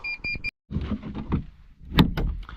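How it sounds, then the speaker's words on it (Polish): Knocking on a car door from inside a vehicle on a freezing day: a short run of electronic beeps, then a few dull, hollow thumps at close range. "Ktoś pukał do moich drzwi."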